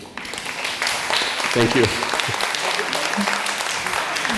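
A workshop audience breaks into applause for a presenter, a dense wash of clapping rising after a brief pause and carrying on steadily, with someone speaking briefly over it.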